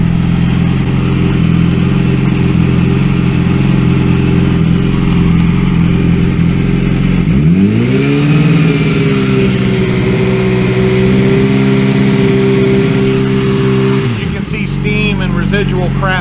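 A motorcycle engine runs steadily while warming up after long storage, loud and close, idling evenly before the revs rise around the midpoint and settle again, with residue burning off the exhaust pipe.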